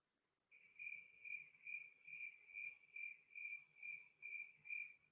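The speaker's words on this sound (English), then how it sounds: "Awkward Cricket Sound" A looping awkward-silence cricket sound effect: a single insect chirps in an even, pulsing rhythm of about a dozen bursts, clear and fairly close, faint background murmur underneath and no talking.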